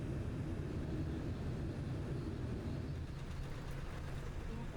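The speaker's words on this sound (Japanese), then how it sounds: "飛行機はどんどん高度を下げていきます。" Airliner cabin during descent toward Narita, a steady, loud broadband engine and airflow roar that holds evenly throughout with no voices.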